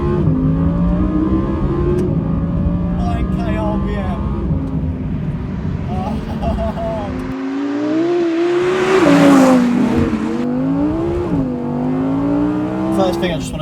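An Audi R8 with a rear-wheel-drive V10 engine pulls away from inside the cabin, its rising engine note climbing through gears, surging loudly near the middle before settling, under steady road noise.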